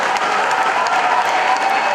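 An AIPCA church congregation applauds steadily and loudly, a dense, continuous wash of clapping with no pauses, sounding close and filling the room.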